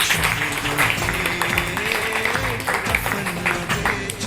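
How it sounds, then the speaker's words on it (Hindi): An audience at a school results announcement claps for a top-ranked student, a continuous moderate patter of applause with a voice speaking over it. "तालियां बजाएं"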